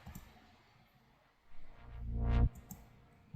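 A reversed synth riser layer swells from quiet to a loud peak over about a second, then cuts off abruptly, with faint tonal blips around it and no voices.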